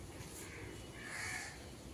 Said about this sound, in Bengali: এই যে কাকটা দেখেন,